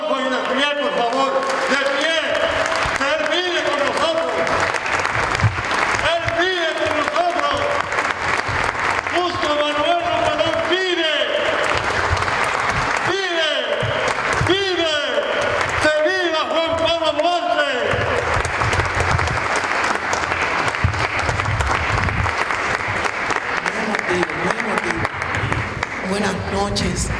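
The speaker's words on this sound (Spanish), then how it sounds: "Yo quiero concluir con un fuerte aplauso para Fran Adolfo Industrial, por favor." Loud sustained applause at a farewell tribute for poet Frank Adolfo, a dense crowd clapping continuously with voices and speech mixed in, strong and steady throughout.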